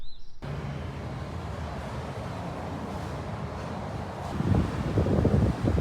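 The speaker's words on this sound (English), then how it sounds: "Ooh, that coastal breeze got in early." A coastal breeze buffets the microphone with a steady, low, rumbling roar throughout, and the gusts grow noticeably stronger and louder near the end.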